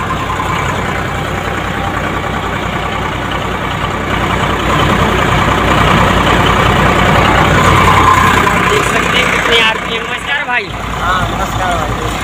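A tractor engine runs steadily while powering a peanut thresher, a loud, continuous low drone with mechanical rumble throughout, close by, and a brief disturbance near the end.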